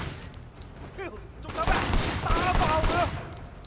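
Gunfire in the video game Sleeping Dogs, bursts of rapid shots growing louder toward the end with a voice speaking briefly in between.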